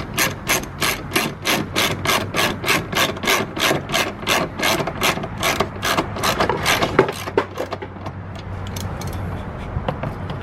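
A hand ratchet tightens a 10 mm bolt in the engine bay of a BMW E46 330ci, clicking in a quick, regular run of about twenty strokes up close before stopping, followed by quieter fumbling.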